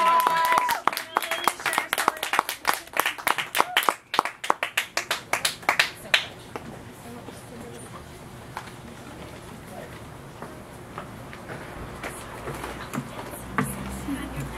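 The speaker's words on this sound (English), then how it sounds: "Another round of applause for Mary and Anne." Audience members clap at an open mic night in a café, a quick burst of sharp individual claps for about six seconds that then thins out into scattered claps and quiet room noise.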